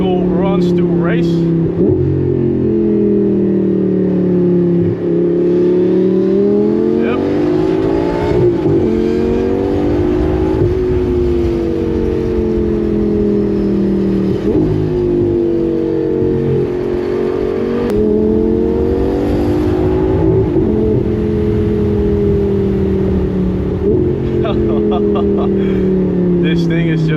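Lamborghini Gallardo V10 with straight-pipe exhaust, loud and close from inside the cabin, engine note climbing and falling through repeated revs and gear changes across the whole stretch, with a driver talking over it.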